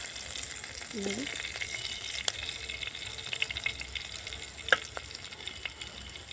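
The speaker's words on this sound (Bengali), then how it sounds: "এইভাবে ভেজে নিয়েছি উপর দিকে তুলে দেবো একটু" Kalmi greens frying in a pan, a faint continuous sizzle sprinkled with small crackles and pops, heard up close with no one talking.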